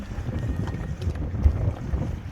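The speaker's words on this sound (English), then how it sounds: "it got suddenly very windy" Strong gusty wind at a beach buffets the microphone with a low, rumbling roar that swells and eases throughout.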